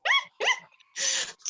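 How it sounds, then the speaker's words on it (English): French bulldog giving a few short, close barks or yelps in quick succession, bright and fairly loud, with brief gaps between them and no talk over them. "Sorry, my dogs. They have to say hi too."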